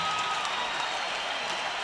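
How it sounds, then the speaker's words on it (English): A boxing arena crowd applauds after a featherweight bout ends by knockout, dense steady clapping heard from a distance with a thin tone briefly above it. "How about a round of applause for two featherweights in this ring"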